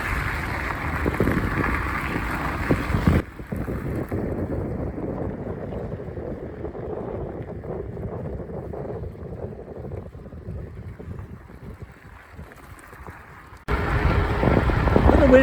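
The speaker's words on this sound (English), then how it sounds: "Windy out here today." Gusting wind buffets the microphone while riding an Ecotric fat tire e-bike outdoors, a loud broadband rush that eases in the middle stretch and surges back strongly at the end, with some speech mixed in.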